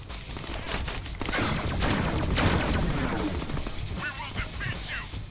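Gunfire in a Deadpool video game, a dense sustained fusillade of overlapping shots with crashes and impacts, loud and continuous throughout, with a few higher chirping effects near the end.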